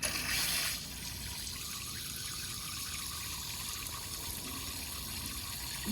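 Water pours steadily from a tap into a bowl set out for cats outdoors, a brief louder gush at the start settling into an even, moderate rushing flow, with no voices.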